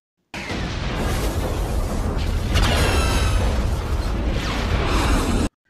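Explosion of a prison cell in an animated episode: a loud, sustained roaring blast with crackling debris and whooshing layers, filling about five seconds before cutting off abruptly.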